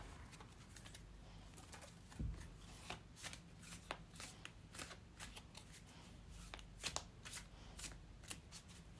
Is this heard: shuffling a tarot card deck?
yes